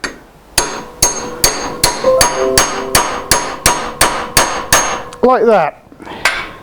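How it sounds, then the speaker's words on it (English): A hammer taps the top piece of a vase into place on a wood-turning lathe: about a dozen sharp, evenly paced knocks close by, with a brief squeaky bending tone near the end, and a voice speaking briefly. "We're going to hammer just to start it in."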